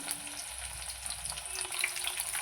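Chopped onion and four green chillies sizzle steadily in a pan, a continuous close frying hiss with small crackles and no voices.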